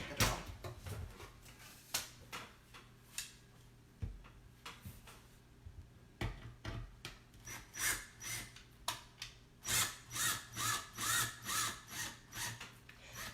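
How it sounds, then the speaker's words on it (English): Power drill driving a screw into a wooden baseball crate, several short bursts early on, then a steady run of rhythmic pulsing whirs near the end, close and fairly loud. "should probably just get the drill"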